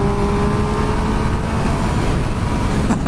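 A 2016 Triumph Speed Triple R motorcycle pulling hard under acceleration, a loud continuous engine roar mixed with rushing wind, heard close and steady without speech.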